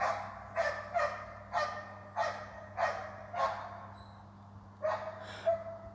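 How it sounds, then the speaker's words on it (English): Police dogs bark repeatedly outdoors at a distance, sharp separate barks in a loose rhythm over a low steady hum, faint but clear with no talk. "oh, police dogs."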